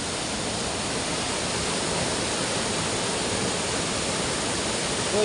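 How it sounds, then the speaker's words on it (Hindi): Water rushing continuously out of dense bamboo forest and on past a field in an Uttarakhand mountain village, a steady, loud, close wash of flowing water with no pauses. "तो इस तरीके से कलकल करते हुए पानी जा रहा आगे।"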